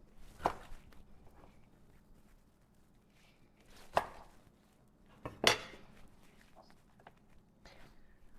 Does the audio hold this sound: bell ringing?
no